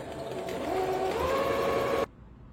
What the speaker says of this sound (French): Donc là, je suis en point droit. Je fais quelques points.